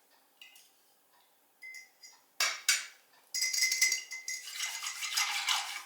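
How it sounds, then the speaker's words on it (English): A whisk works through condensed milk, vanilla and coffee in a cup, starting with a few isolated clinks, then breaking into a fast, steady run of light metallic ticking against the sides, close and clear. "So just whisk this."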